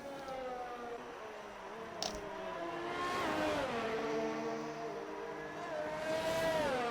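Race car engine in a sim racing game, Austria circuit, a steady whining tone that rises and falls in pitch as the car sweeps past, loud and continuous throughout with no talk.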